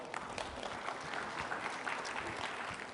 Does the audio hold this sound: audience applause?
yes